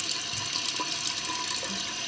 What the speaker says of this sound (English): I get some water first